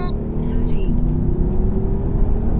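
An ABT widebody 520 bhp tri-turbo Audi SQ7 holds against the brake with the throttle pressed to build boost, giving a steady, close, heavy engine drone that stays level throughout.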